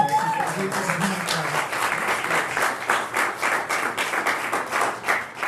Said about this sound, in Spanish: Démosle un fuerte aplauso a Cristo.